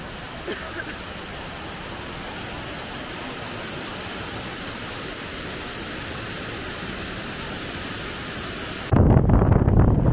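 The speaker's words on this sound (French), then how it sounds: "le premier arrêt c'est les cascades" Steady broadband rush of a waterfall in northern Vietnam fills the scene, constant and fairly loud, ending with a brief louder burst of noise near the close.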